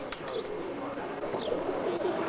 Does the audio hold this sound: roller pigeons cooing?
yes